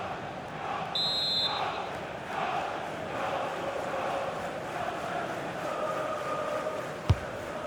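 A football stadium crowd in a video game match between Leeds United and Nottingham Forest keeps up a continuous, loud roar, with a brief whistle-like tone near the start and a sharp thud near the end.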